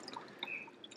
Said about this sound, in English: I'm now going to pour the developer into the tank